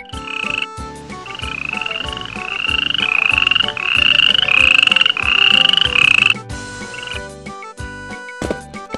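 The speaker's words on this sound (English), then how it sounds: "F for frog." Cartoon frog croaks in a children's animated alphabet lesson, a rhythmic run of bright, repeated croaks riding over busy, loud backing music with no talking.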